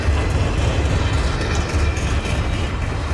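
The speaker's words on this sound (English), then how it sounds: "First train of the day that I've seen." A slow-moving freight train on a snowy track rolls past as a loud, steady low rumble with a broad wash of wheel and car noise, sustained throughout with no talk.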